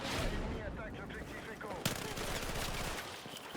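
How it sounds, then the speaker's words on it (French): Rapid hip-fire bursts of gunfire in the Battlefield 6 video game crackle continuously, mixed with other battle noise and a sharp louder shot partway through. "je vais faire pas mal de tirs au jugé"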